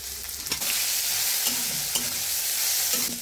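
Chili, panch phoron and cumin sizzle hard in hot oil in a pan, with kohlrabi pushed to the side. Close, bright frying hiss is broken by a few scraping stirs of a spatula.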